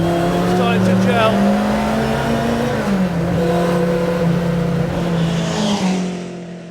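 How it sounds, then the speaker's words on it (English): A continuation Ford Escort Mk1 Twin Cam rally car engine roars continuously up close, its straight-cut gearbox whining loudly, with a person speaking over the din. "That straight gun gearbox is so loud."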